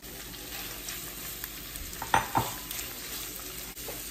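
Shrimp cooking in a pan for camarones a la diabla, a soft steady sizzle with a few sharp stirring scrapes and clicks near the middle, close and fairly quiet with no talk.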